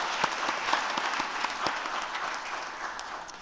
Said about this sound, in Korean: 우리 같이 격려 박수 부탁드리겠습니다.